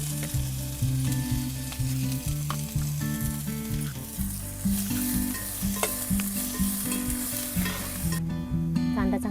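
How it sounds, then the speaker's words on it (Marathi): Onion frying in hot oil while goat brain fry is being cooked gives a loud, continuous sizzle that runs unbroken through the whole stretch, with tonal sounds in the background. "कांदा टाकून घेऊ।"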